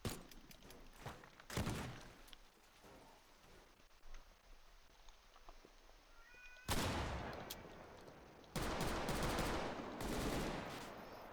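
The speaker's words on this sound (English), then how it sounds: "maybe the AK isn't doing enough damage to take this down" AK rifle gunfire in the game Teardown comes in several loud bursts of rapid shots, with short pauses between them and two longer sustained volleys toward the end.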